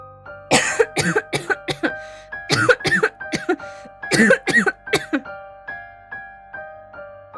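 A man coughs in a series of harsh bursts, several fits in a row, close and loud, trailing off into a faint hum.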